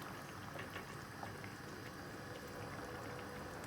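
Dal and meat simmer in water in a pot on the stove while shaami kabab is prepared, giving a faint, continuous bubbling hiss that stays even throughout without any voices.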